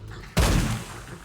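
A single loud, booming gunshot in a video game, hitting suddenly with a heavy low thump and a noisy tail that fades over about a second.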